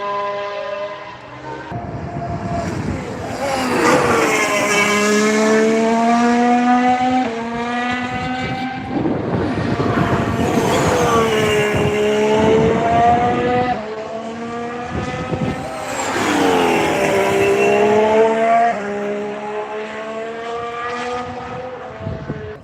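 Formula 1 race cars pass one after another through turn 1 at low revs, each rising and falling engine note swelling loud up close before fading, three distinct passes in succession.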